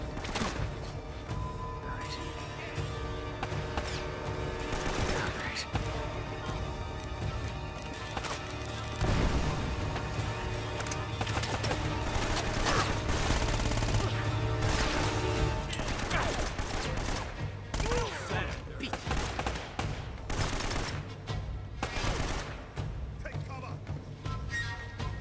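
Enemy gunfire aimed at the player in Uncharted: Drake's Fortune, scattered sharp shots and impacts cutting through a musical score while someone talks and reacts over much of the stretch.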